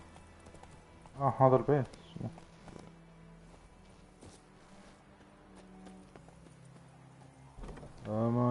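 In The Witcher 3, the horse Roach runs with rhythmic hoof clip-clops at moderate volume. Someone speaks briefly at the start and again near the end.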